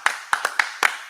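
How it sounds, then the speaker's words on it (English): A few people clap for a man who has just read Hebrew aloud at a Sabbath service, six sharp hand claps in an uneven rhythm, close and distinct with no talking. "Clap it up for this brother, man."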